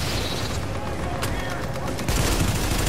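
Enemy turret gunfire in The Division during an Incursion, a dense rattle of shots with a louder burst near the end, running under steady game noise and talk.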